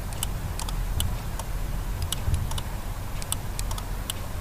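Sharp clicks from a car's central locking actuator and its contact coil as the doors lock and unlock by remote, a few scattered ticks over a steady low hum.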